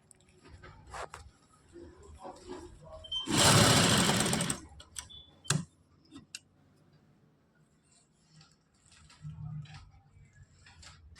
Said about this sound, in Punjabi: ਜੇ ਤੁਹਾਨੂੰ ਮੋੜਨਾ ਔਖਾ ਲੱਗਦਾ ਜੀ ਤਾਂ ਤੁਸੀਂ ਪਹਿਲਾਂ ਇਸ ਤਰ੍ਹਾਂ ਇਹਦੇ ਤੇ ਸਲਾਈ ਲਗਾ ਲਿਓ